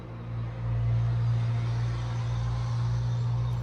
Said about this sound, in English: Car going by.